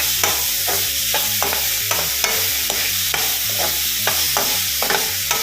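Sabakki avalakki uppittu ingredients, sago and flattened rice with greens, fry in a pan with a loud, close sizzle, broken by rhythmic scraping and stirring strokes at a steady pace, with no voices.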